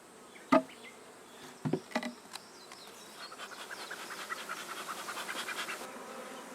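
Honeybees buzz around a hive at an apiary, with a few close knocks and handling thumps early on, then a steady buzzing that grows gradually louder and fuller as many bees fly nearby.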